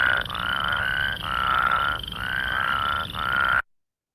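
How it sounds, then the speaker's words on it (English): A plains spadefoot toad gives a steady series of loud, close, rasping whirring calls, about four in a row with short gaps, alone with no voices. "All right, that is the plains spadefoot."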